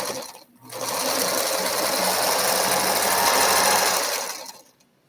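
A sewing machine runs a steady, fast stitching burst while sewing diagonal fabric strips, starting after a short pause and stopping near the end, loud and close with no talk.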